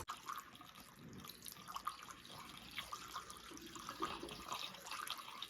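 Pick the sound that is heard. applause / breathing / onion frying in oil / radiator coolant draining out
radiator coolant draining out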